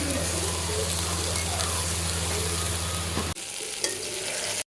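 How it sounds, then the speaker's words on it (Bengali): Eggplant pieces coated with salt and turmeric frying in a pan, a loud steady close-up sizzle with some stirring that abruptly drops to a quieter hiss near the end. "আর এই তো এদিকে আমার বেগুনগুলো কিন্তু ভাজা হয়ে গিয়েছে"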